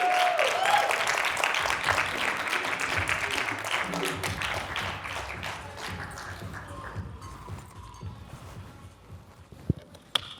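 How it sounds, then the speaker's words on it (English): Audience applause as a woman named Angela walks onto a business talk stage, a dense clapping patter that starts full and gradually thins and fades over about ten seconds, with a few footsteps and light murmuring near the end. "Give her a round of applause."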